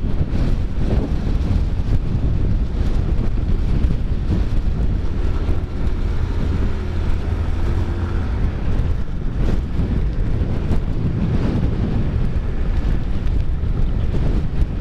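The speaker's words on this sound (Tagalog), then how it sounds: "Talagang kinakabig ng hangin yung monobela mga ka-taker." Strong wind buffets the microphone during a foggy afternoon motorcycle ride in Malico, San Nicolas, a loud continuous roaring rush with low rumble that gusts throughout without letup.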